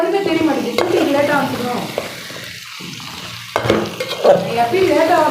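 Chopped potatoes fry with mutton for a dal mutton kulambu, a continuous sizzle broken by scraping stirs and a utensil knocking the pot, while a person talks over the cooking.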